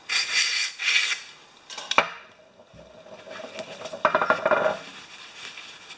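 Bowl of a newer Briggs & Stratton lawn mower carburetor, clogged by dirty gas, scrubbed and wiped by hand: close rubbing and scraping bursts, a sharp clack in the middle, then more brisk rubbing.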